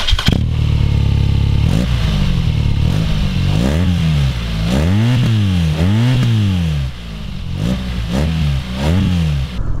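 A BMW R nineT motorcycle engine, the A2 version, revved repeatedly while standing still: loud, close blips that rise and fall in smooth waves over a rumbling idle, with no talking.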